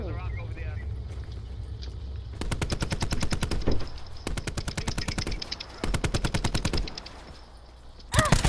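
Rapid automatic gunfire from Call of Duty Black Ops 4 Blackout rattles out in several long, loud bursts separated by short pauses, with players' voices talking underneath.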